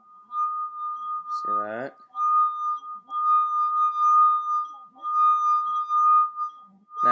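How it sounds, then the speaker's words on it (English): A wine glass sings as a vinegar-wet fingertip circles its rim, giving a steady, pure ringing tone that holds through nearly the whole clip. Someone speaks briefly over it near the start. "the vibrations caused by our finger begins to work its way around the rim of the glass and down around the bowl."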